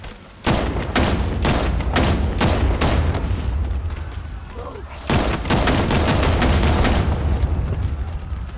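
Gunfire in the Batman Arkham Knight game, rapid bursts of loud shots in two long volleys with a short pause between, close and heavy, while someone talks excitedly over them.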